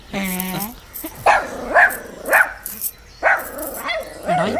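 A dog barks several times in short separate bursts, close and fairly loud, with a person talking in between.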